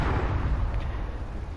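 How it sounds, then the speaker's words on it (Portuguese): Explosion in the video game Ratchet & Clank, a dense low rumble that sustains at a steady loud level throughout, with no speech over it. "Uma explosão."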